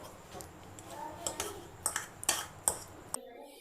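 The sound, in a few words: fork shredding boiled eggs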